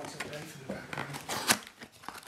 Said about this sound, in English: Would you watch the guy open packs with scissors?